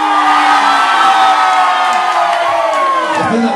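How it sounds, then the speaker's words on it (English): A packed room of wedding guests roars and whoops in a sustained, loud wall of cheering for a dance-off contestant, steady from start to finish. "Those voting for Gary, let's have a cheer."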